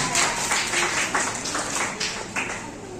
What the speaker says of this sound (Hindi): मैं आपसे निवेदन करूंगा सबके लिए जोरदार तालियों से स्वागत करें श्री जसपाल शर्मा जी आज के मुख्य अतिथि